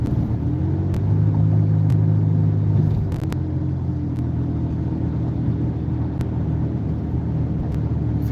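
A car cruises at about 45 mph, heard from inside the cabin as a steady low road rumble and engine drone with a faint tyre hiss and no talk.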